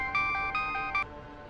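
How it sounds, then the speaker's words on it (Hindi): A phone rings on speakerphone during a tense crime drama scene, three repeated electronic ringtone bursts sounding steadily and moderately loud with no talking over them. "ध्रुव, फोन स्पीकर पे डाल।"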